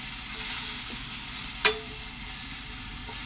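Garlic and spices sizzle gently in a pan over moderate heat, a soft steady frying hiss with a single sharp clink of a spoon partway through, close and alone.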